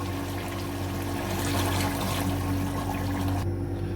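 Water pours steadily into a cooking pot, a continuous close trickle and splash for a few seconds, measured in for cooking rice for beef yakhni pulao, with no talk over it.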